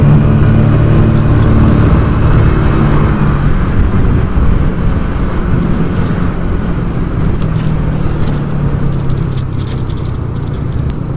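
A Yamaha Mio scooter fitted with light rollers and a stiff CVT spring runs at high revs, its engine droning loud and steady with a rough, buzzy tone throughout, heard from on board.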